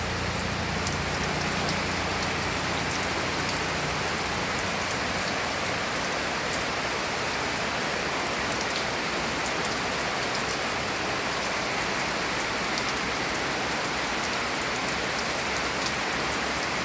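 Heavy rain pours down steadily, a dense continuous hiss of drops drumming on surfaces, loud and unbroken throughout.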